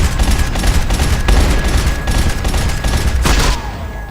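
Continuous loud gunfire from Max Payne 3, dense overlapping shots in rapid bursts close up, cutting off abruptly near the end with a faint ringing tail.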